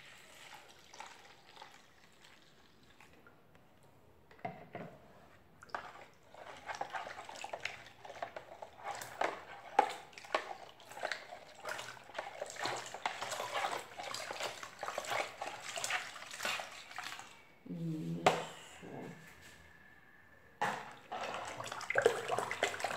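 Half a liter of hot water poured into a fabric-softener mixture made with massage cream gives a long, close splashing and trickling stream, faint at first, then steady with a brief break before resuming.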